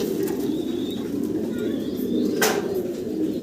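A male pigeon at a large pigeon farm coos in low, throaty pulses amid the steady murmur of many birds, with a flutter of wings and someone talking over it.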